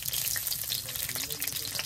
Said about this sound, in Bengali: কাঁচামরিচ ভালোভাবে বেজে দিয়ে দিলাম